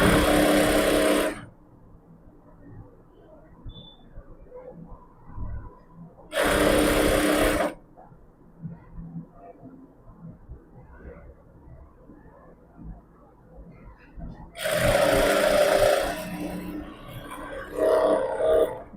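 A sewing machine stitches a pillow cover in three loud bursts of rapid, whirring stitching, each lasting one to a few seconds, separated by quiet stretches with faint handling noise.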